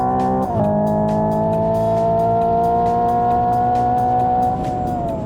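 Hyundai Ioniq 5 N accelerating hard down the straight at Laguna Seca, a loud, steady engine-like drone with layered tones that climb gradually in pitch after a brief dip near the start, with no talking.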